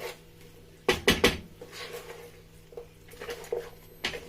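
Jollof rice is stirred together with tomato sauce in a pot, a spoon clanking against the metal in a quick cluster of knocks, followed by softer scraping and scattered taps.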